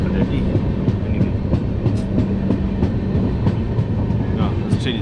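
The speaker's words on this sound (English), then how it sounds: "this train is picking up speed." Loud, close rumble of a train picking up speed on the Hyderabad to Nagpur route, rhythmic clicks and rattles from the wheels, a constant roaring drone throughout.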